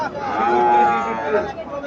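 A Nepali or Sahiwal bull calf at the Mirshanni cattle market in Cumilla lets out a long, loud moo nearby, with faint crowd chatter beneath.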